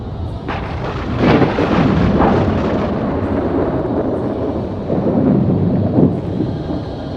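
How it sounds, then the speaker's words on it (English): A summer thunderstorm in a high mountain valley: loud, deep rolling thunder with rumbling swells under steady rain, no voices. "Thunderstorms come frequently during the summer in these high mountain valleys."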